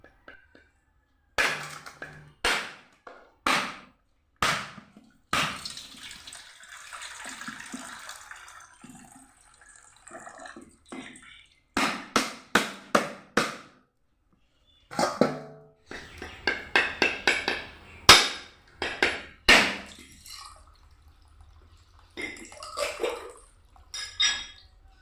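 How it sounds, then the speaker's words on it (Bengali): Four coconuts for Bengali coconut naru sweets are struck open with a series of sharp, separate cracking blows, then grated in dense, rapid scraping bursts that run steadily through the second half. "এখন আমি নারকেলটা ফাটিয়ে নারকেলটা কুড়িয়ে নেব।"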